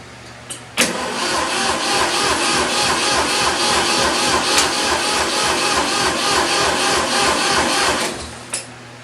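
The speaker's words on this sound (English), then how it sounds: "So with a little bit of luck and a little bit of cranking, this guy should fire up" A Ford 2000 tractor engine, choked, cranks steadily for about seven seconds, a rapid rhythmic churning from a starter motor that never catches, loud and close.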